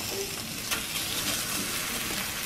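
Meat seasoned with salt and garlic frying in a pan, a constant close sizzle with light stirring and one brief clatter, no talk.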